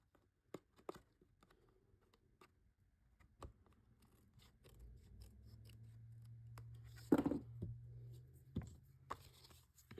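Paper overhang trimmed off a cardstock craft project with scissors, giving scattered quiet snips and rustles, close and soft, with no talking.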